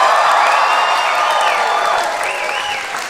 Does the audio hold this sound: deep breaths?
no